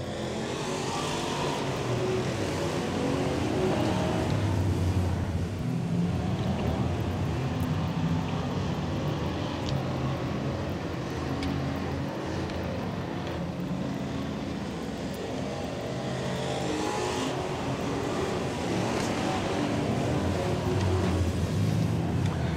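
Race cars roaring around a dirt track, a steady loud engine drone that swells and fades as the field passes, with no talk over it.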